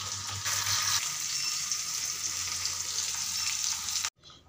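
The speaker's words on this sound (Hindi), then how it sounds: "उसके बाद से मैंने प्याज भून कर फिर मसाले जो मैंने पीस रखे थे उसको डाल दिया" Onion and ground spices (garlic, chilli, cumin, coriander, black pepper) fry in a pan with a steady, loud sizzle that stops abruptly near the end.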